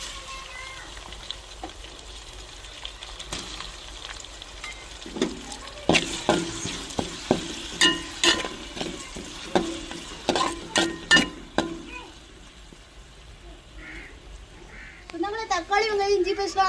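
Onions, green chillies, ginger paste and tomatoes sauté in a pan for potato rice, with a spatula stirring in a run of rhythmic scrapes and clinks over a steady sizzle.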